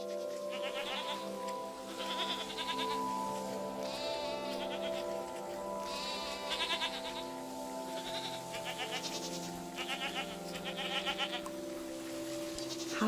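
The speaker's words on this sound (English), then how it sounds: "I'm petting this goat for you." A goat in the game Sky bleats repeatedly in wavering high calls spread through the stretch, over a continuous soft musical score, close and clear.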